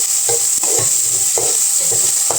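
Onion and tomato sautéing in a pan, a steady bright sizzle with repeated scraping stirs at an irregular rhythm, close and fairly loud, no voices.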